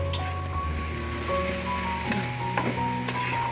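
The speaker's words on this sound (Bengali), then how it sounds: "এই মশলাটা কাঁচা আছে তো এটা এই পেঁয়াজের সাথে ভাজা হয়ে যাবে" Ground spices and onions fry in hot oil for Amritsari chicken with a low steady sizzle, punctuated by a few sharp clinks and scrapes of stirring.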